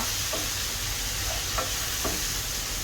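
Ingredients sautéing in a pan for prawn molee, a dense, even sizzle with a few soft stirring scrapes, close and continuous.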